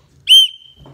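One brief, piercing whistle toot up close, followed by quiet and a faint low rumble.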